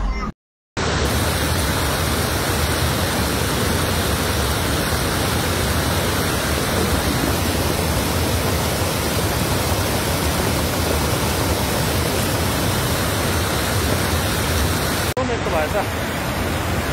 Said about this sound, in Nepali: डरलाग्दो पानी परिरहेछ